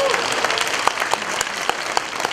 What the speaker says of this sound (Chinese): 给她拍手一下